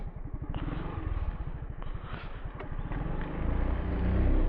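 Motorcycle ride on the road from Manila to Mauban, Quezon, with a steady engine drone and a rapid exhaust pulse, wind and road rumble building louder toward the end.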